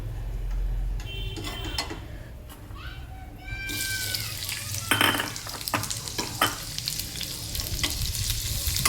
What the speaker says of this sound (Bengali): এবারে এর মধ্যে দেখো পেঁয়াজ কুচিয়ে রেখেছি আর কাঁচা লঙ্কা, এটাকে দিয়ে ভাজবো।